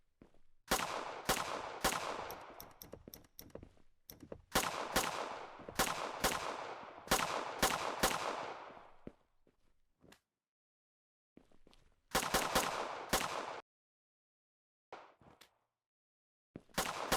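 Weapon gunfire in a survival horror video game: bursts of rapid shots, each with a ringing decay, separated by silent gaps, fairly loud and close.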